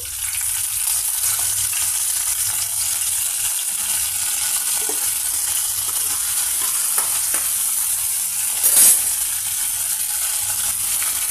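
Chana dal and curry leaves frying in oil in a large deep ladle, a steady close sizzle with light crackling and a brief louder flare near the end, and no speech.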